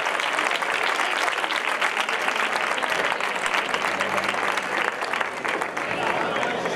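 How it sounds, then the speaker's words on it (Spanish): Applause from the audience at a youth court coronation during a village fair, steady dense clapping throughout with a faint voice or music line briefly underneath toward the end. "Aplausos también para ellos."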